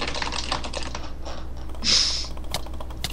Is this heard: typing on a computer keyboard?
yes